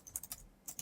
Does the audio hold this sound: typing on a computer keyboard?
yes